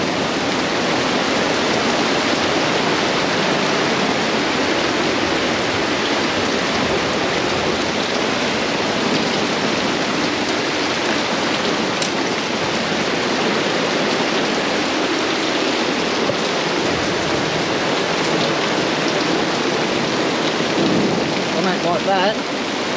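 Heavy rain pours down during a massive storm at a campsite on the NSW South Coast, a dense, unbroken roar of drops on the ground and the camp gear, loud and close for the whole stretch.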